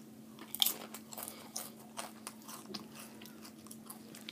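A Lay's deep dish pizza flavor potato chip is bitten and chewed up close, with a sharp first crunch followed by a run of quieter crunchy chews over a steady low hum.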